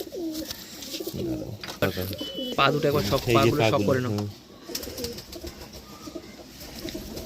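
Madras pigeons coo in soft repeated throaty calls close by, mixed with people talking nearby and light handling noise.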